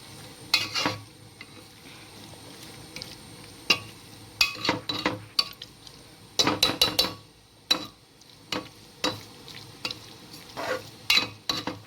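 Squid curry ingredients are mixed in a pot. A spoon clacks and scrapes in sharp, uneven bursts, near and loud over a quiet background.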